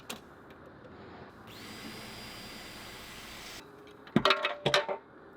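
A power drill runs steadily for about two seconds, driving a self-tapping screw into wood while a light fixture is mounted, followed by a few sharp knocks and clatters near the end.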